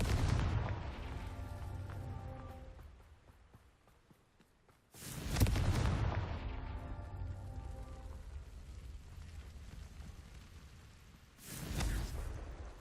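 Confringo fire spell explosions in the video game Hogwarts Legacy: three booming blasts, one at the start, one midway and one near the end, each followed by a rumbling fade.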